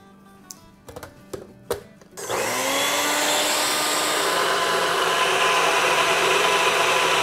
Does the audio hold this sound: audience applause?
no